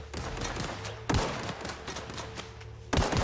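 Rapid gunfire from a recoiling gun in The Outer Worlds, a sci-fi shooter game, with steady bursts of shots and heavier thumping reports at two points, loud and close, with no voices.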